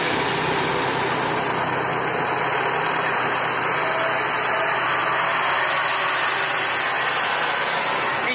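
Idling tractor engine with a steady, continuous low rumble that holds at an even level throughout, with no voices over it.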